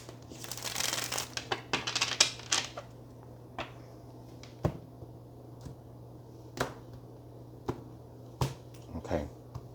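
A deck of tarot cards being shuffled by hand, crisp riffling and sharp card slaps in irregular bursts over a steady low hum, close and fairly quiet.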